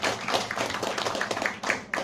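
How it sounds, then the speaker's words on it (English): Audience applause at an L&D Global corporate event, a short burst of lively clapping from a crowd with a few louder individual claps standing out. "one round of applause for each one of you"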